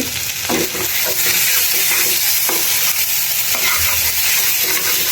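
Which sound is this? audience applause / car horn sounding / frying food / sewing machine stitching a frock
frying food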